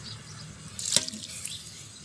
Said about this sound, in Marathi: आपण पाट्यावरचं काढलेलं ह्या मसाल्याचं पाणी टाकून घेऊया थोडं.